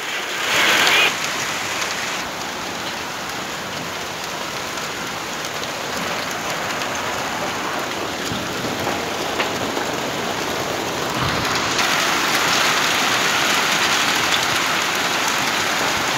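Heavy rain pours steadily in Uyali during a downpour, a dense continuous hiss with a brief brighter burst near the start and a slightly louder patch toward the end.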